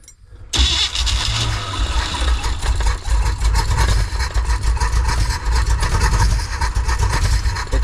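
An old van's engine cranks and catches on a brand new carburetor, a loud, close, rough churning roar that runs continuously after a brief quiet start.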